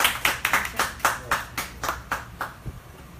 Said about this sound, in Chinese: 咱掌声欢迎啊！